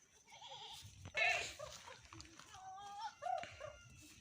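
Goat hanging calmly in a weighing bag gives several short, wavering bleats, loud and close, with quieter rustling between them.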